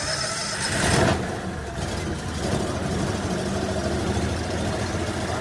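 A carpet cleaning machine's engine turns over with a key and fires up in a loud burst near the start, then settles into a steady, close, rumbling idle with no talk over it.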